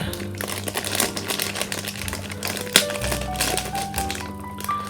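Crinkling, rustling packaging as a boxed Panhard VBL scale model kit is unpacked, with irregular close crackles and taps and one sharp snap near the middle; no speech.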